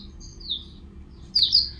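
A male blackthroat in a breeding-pairing cage gives two short, bright chirps, the first brief and the second a quick double note a second later, faint over a quiet low hum with no voices.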